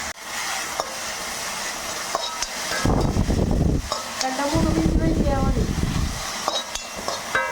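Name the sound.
sprouted green gram being sautéed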